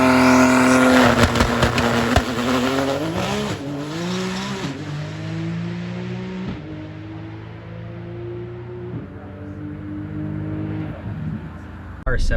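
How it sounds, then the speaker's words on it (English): Drag racing car accelerating hard down the strip at a track event, loud engine climbing through rising harmonics with gear shifts, roaring close then fading slightly, with people talking over it. "A 7-second GTR."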